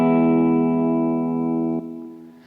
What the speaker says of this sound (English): You get this beautiful echo sound right away.